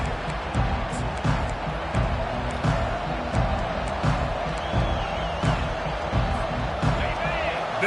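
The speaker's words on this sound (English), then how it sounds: "This crowd going to try to make life miserable for these guys." Football stadium crowd at an LSU game, a loud, continuous roar of massed voices with scattered shouts and cheers, sustained throughout under the broadcast.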